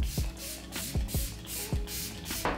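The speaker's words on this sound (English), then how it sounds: "I always like to do the test run and then spray it all over" Several short puffs of e.l.f. makeup setting mist spray from a pump mister, spaced about half a second apart, each with a soft click of the nozzle, close and fairly quiet.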